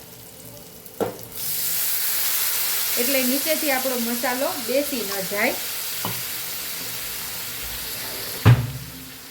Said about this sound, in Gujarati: અહીંયા આપણે 2 થી 3 ચમચી જેટલું પાણી છટકોરી અને થોડી વાર મસાલા સાથે આપણે એને સાતળી લેવાના છે